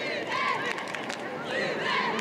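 Spectators chant a player's name in rising, rhythmic shouts at an under-13 football final between FC Marmande and OL, a crowd of voices in two swells with a general stadium hubbub underneath.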